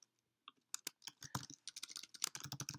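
Rapid typing on a computer keyboard, a quick irregular run of close, crisp key clicks starting after a brief pause, quiet overall with no talking.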